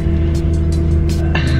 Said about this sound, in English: See, now you can hear the engine.